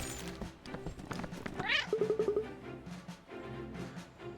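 A cat meows in the video game Cat Quest, a short rising call over steady game music and sound effects.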